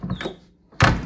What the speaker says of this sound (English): But I can open and close the door